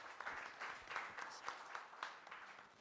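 An indoor audience breaks into steady applause at a venture capital panel event, many hands clapping together at an even, moderately loud level with no talking over it.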